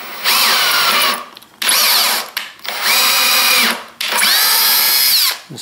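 A power tool drives a tap to cut a waxed 1/4-20 thread for a set screw in a low angle jack plane handle, giving four long, loud, whining bursts separated by short pauses.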